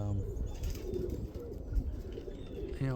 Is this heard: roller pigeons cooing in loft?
yes